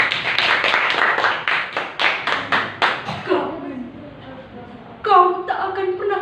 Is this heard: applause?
yes